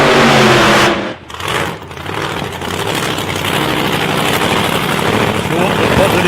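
Willys race car engine at a drag race on a raceway: a loud, harsh broadband roar that briefly drops and then swells back, sustained and dominant, with crowd or track noise mixed in.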